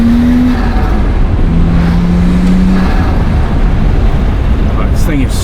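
A Nissan Skyline running a Fuji Sobo Japanese exhaust pulls hard, its engine note climbing loud and close for several seconds with a brief shift in pitch, heard from inside the car.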